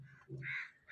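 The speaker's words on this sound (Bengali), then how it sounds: "কত কাক আছে আজকে।" Crows in a Bengali village give a loud, close caw, a single harsh call lasting under a second.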